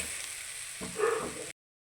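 Chili powder sizzles faintly in a hot clay pot with the heat turned off, a soft steady frying hiss that swells briefly with a stir before cutting off.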